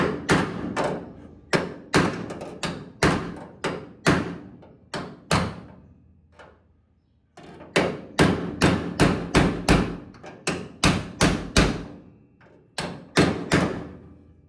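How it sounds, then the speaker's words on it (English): Repeated loud hammer blows on a replacement metal body panel, close by. They fall in irregular bursts with ringing decay and a brief pause midway. "Go ahead and finish it off with the hammer here."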